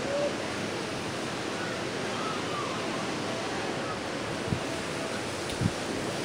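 Steady broadband ocean surf washing onto a beach, a continuous soft roar of waves with wind noise and a couple of brief thumps near the end.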